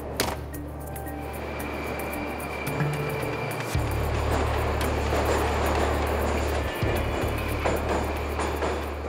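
Moscow Metro train standing at an underground station during a brief stop, with a loud low electrical hum and rumble, a sharp change in the drone midway, and faint clanks and station background noise.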